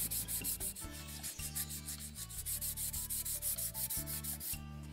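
Hand sanding of a pine board to make it smooth before staining, a rapid rhythmic back-and-forth scratching close up, steady and without talk.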